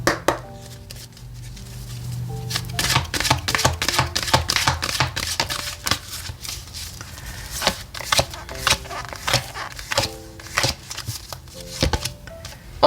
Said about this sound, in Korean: 테마 카드를 3장 먼저 뽑아보도록 할게요